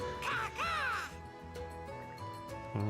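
A crow caws in the video game Ys X: Nordics, two or three harsh, rasping calls in quick succession over a steady background music bed.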